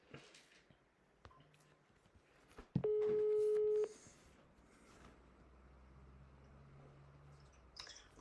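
A telephone call being placed, with a single steady ringback tone lasting about a second, faint room noise before and after.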